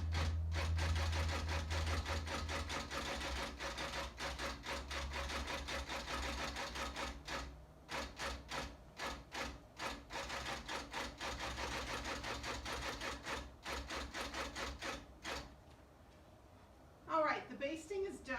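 A long arm quilting machine under Pro Stitcher computer control stitches basting lines, rapid mechanical needle chatter running in bursts with short pauses, moderately close, then stopping, with a brief voice at the end.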